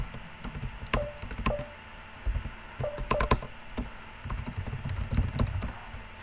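Commands are typed on a computer keyboard in a Linux Ubuntu terminal, giving irregular close key clicks with a few sharper taps, no speech.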